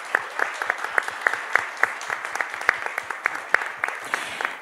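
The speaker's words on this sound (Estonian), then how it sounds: "Ma palun suurt aplausi Ege Kulbak-Latikule." Audience applause for a book author at an annual conference panel, a lively patter of individual claps with sharp, distinct hand strikes standing out, steady and close throughout with no talking.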